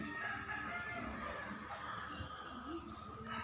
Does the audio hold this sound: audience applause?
no